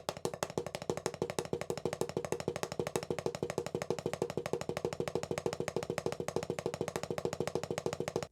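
Rapid, even drum double strokes played with wrist and fingers, a steady stream of quick crisp hits, quiet and close with no talking.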